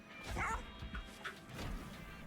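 The Bone Dog unit in the video game Monster Train 2 gives a few quiet barks and yips, muffled and set against faint game background sound.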